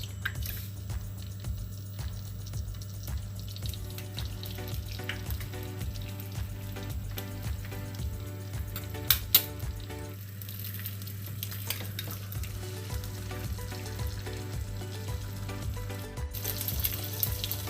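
Two eggs poured into a pan, frying with a steady low sizzle and occasional faint stirring scrapes over a constant hum, quiet and close throughout.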